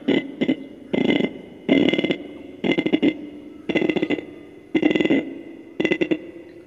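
A man imitates a dry-weather frog croaking with repeated raspy, pulsing croaks, mostly in doubled bursts at an even pace. The croaks are close and moderately loud.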